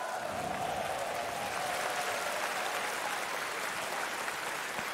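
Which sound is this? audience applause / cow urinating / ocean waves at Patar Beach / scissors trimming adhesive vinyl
audience applause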